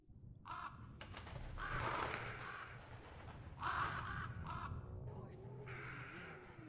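Crows caw in the horror video game Remothered: Broken Porcelain, several harsh, rasping calls at moderate distance over a low ambient drone, with no talk over them.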